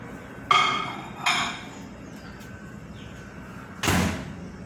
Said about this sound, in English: And it goes into the microwave.